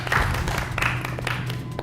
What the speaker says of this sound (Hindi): अपने लिए आप तालियां बजा सकते हैं